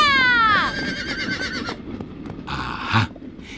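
A loud, close horse whinny in an audio drama rises and falls at the start, followed by quieter movement and a brief snort-like burst near the end.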